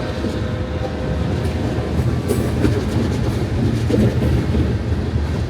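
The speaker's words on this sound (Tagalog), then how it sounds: "May train din dito, guys, sa lugar na tinitirhan ko." Freight train carrying export goods rolling past nearby, a loud steady rumble with wheels clacking rhythmically over the rails and no talking.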